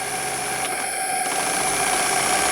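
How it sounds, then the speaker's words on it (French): A mechanical engine hums steadily at a moderate, even pace, with a constant drone and faint rattling vibration throughout. "avec un moteur qui fonctionne à vitesse raisonnable"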